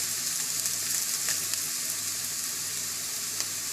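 Onions turn golden in a hot pan as turmeric goes in, a dense, even sizzle close by with faint stirring and no voices.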